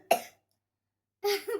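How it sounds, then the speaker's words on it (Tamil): A woman coughs twice, close and sharp, the two short harsh bursts separated by about a second of silence. "சிரிச்சா பேசினாலே இருமல் வருது எங்கள் அம்மாவுக்கு"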